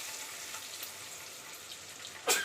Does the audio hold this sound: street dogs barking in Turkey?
no